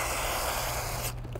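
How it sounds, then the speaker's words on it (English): Water sprayed over a wheel with a delicate finish that is coated in cleaning gel, producing a steady, close hiss of spray that runs for about a second before stopping abruptly. "I'll grab my water to activate the suds."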